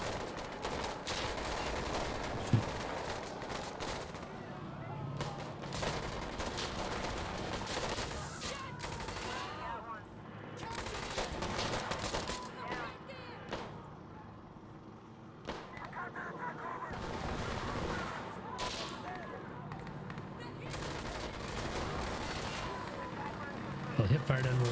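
Rapid bursts of hip-fired gunfire in a Battlefield: Insurgency PvE match against bots, loud and repeated in clusters over a busy battle bed, with people talking over the shooting.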